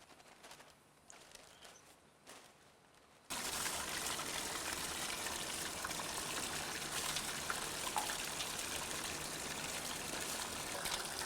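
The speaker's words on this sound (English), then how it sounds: "Rice for premium sake is washed by hand in small batches" Rice for premium sake washed by hand in a tub of water in small batches: a quiet, sparse trickle for about three seconds, then a loud, steady rush of splashing, churning water that continues unbroken to the end.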